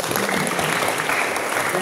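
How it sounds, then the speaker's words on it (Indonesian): Audience applause at a school motivational talk before a quiz competition in Tarakan, a brief burst of dense, steady clapping filling the moment. "Oke, tepuk tangan."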